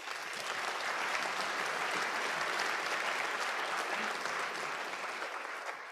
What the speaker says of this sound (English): I think that deserves its own round of applause.